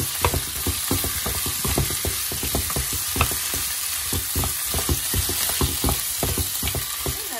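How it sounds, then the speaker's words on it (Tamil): Boiled potatoes and onions sauté in hot oil for poori masala, giving a dense, continuous frying crackle with rapid rhythmic clicks of stirring throughout, close and loud with no talking. "எண்ணெயிலையும் நல்லா வதக்கி கொஞ்ச நேரம் அவிய விட போகிறோம்"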